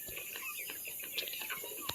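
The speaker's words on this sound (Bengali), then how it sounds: "এই যে মুরগি খাচ্ছে ঠোকায়।" Chickens on a farm cluck softly while pecking at food, with short scattered clucks and pecks over a low background hum and no voices.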